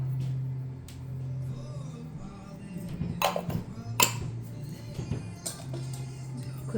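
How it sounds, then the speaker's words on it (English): Dry muffin ingredients with cinnamon and salt are quickly stirred in a bowl, producing light scraping and a few sharp clinks of utensil against the bowl over a low steady hum. "Quickly stir that around, making sure everything's combined"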